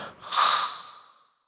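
A single voiced imitation of a snore: a rough, breathy snort that swells and fades over about a second, with no other sound around it.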